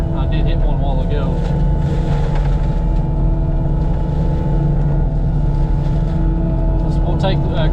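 Forestry mulcher working over brush on sandy, rocky ground, a loud steady engine drone with a heavy grinding rumble that runs without a break from start to finish.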